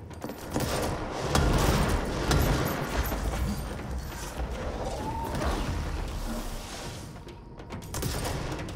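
Gunfire and rocket blasts in the action game Control: a loud, dense wall of shots, explosions and crashing debris that continues throughout.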